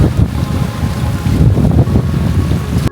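Strong wind roars and buffets the microphone at a seaside terrace in Okinawa, a loud, continuous rumbling gust with no voices.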